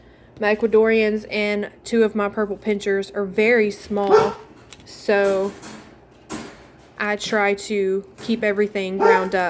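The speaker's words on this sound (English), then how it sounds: "Sorry about my dog." A dog barks in short bursts under a person speaking close by, the yaps mixed in with steady talk.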